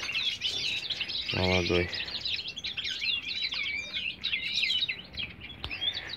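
A caged male red-fronted serin, used as a decoy bird, calls in rapid, continuous high twittering chirps that run throughout; a voice speaks briefly over it partway through.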